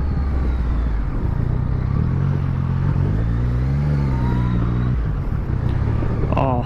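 A 2015 Yamaha MT-09 motorcycle engine hums steadily at low to mid revs while being ridden, rising briefly in pitch mid-way, with wind noise and a rider talking over it throughout.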